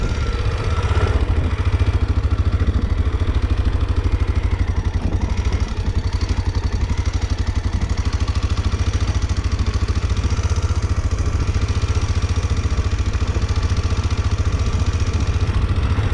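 A light motorcycle engine runs steadily and loudly up close for the whole stretch, chugging with a low rumble and some mechanical clatter while riding a rough trail, no talk over it.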